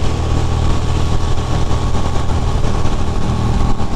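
A motorcycle rides through pouring rain with a loud, constant engine drone and heavy wind and road roar all the way through, no voices.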